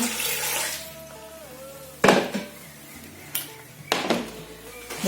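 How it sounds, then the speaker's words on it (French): Water splashes from a tap into a pot of potatoes, a running stream with several short, louder gushes and pours spaced through the clip, close by and with no talking. "Je mets de l'eau."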